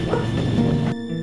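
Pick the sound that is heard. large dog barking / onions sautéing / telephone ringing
large dog barking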